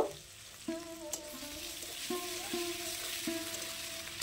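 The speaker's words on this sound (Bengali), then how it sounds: "দেখতে পেলে শুকনো লঙ্কা আর কালো জিরে ফোড়ন দিয়েছি, আর তারপর টমেটম কুচি, কাঁচা লঙ্কা কুচি দিয়ে একটু নেড়ে চেড়ে" Tomato pieces, chopped green chillies, dried red chillies and black cumin tempering sizzle in hot oil for a hilsa fish curry, a steady frying hiss with soft stirring taps and scrapes at intervals.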